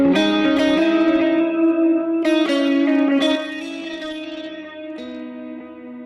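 PRS SE Silver Sky electric guitar played clean through heavy reverb, ringing strummed chords and picked notes that sustain and decay with a washy tail, no talking.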